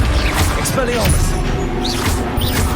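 An Expelliarmus disarming spell is cast during a Hogwarts Legacy duel, with loud crashing impacts and whooshing magical bursts amid busy combat noise and shouting voices.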